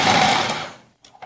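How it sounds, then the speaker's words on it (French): A blender whirs loudly as it grinds a cup of cooked rice, a dense continuous buzz for most of a second before cutting out, followed by faint brief kitchen noises. "Couvrez et mixez."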